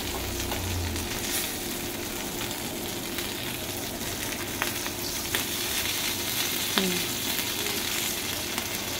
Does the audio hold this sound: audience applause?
no